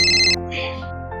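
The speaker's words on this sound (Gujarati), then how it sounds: "મમ્મી ફોન ઉપાડો." A phone ringtone plays loudly and alone, a bright electronic melody with several tonal notes that change pitch across the brief stretch, set in a family home.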